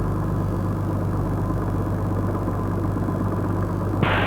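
Piper Comanche 250 light aircraft engine idling during a ground run-up, a steady low droning rumble heard close and continuous, with a brief click near the end.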